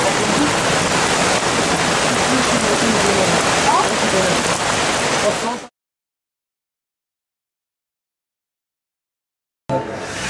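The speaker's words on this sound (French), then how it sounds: "Bon, on l'a vu la pluie" Steady, loud rain pours down outdoors in a dense, even wash for several seconds, cuts off abruptly, then resumes briefly at the end.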